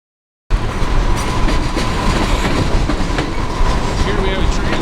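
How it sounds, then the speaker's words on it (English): A train rumbles across a bridge at a rail crossing gate in steady, dense clattering that begins abruptly and stays loud and close throughout, with no voices. "Here we have a train going right over gate"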